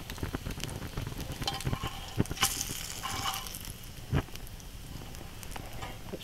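Salt pork frying in a pan over an open fire, a steady crackling sizzle with scattered pops and a few louder spits, no voices.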